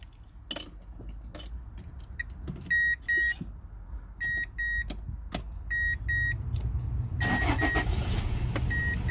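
A Toyota Hiace XH10 campervan with an electrical fault starting up: several door-chime beeps and clicks, then the engine cranks and catches into a steady, close idle rumble.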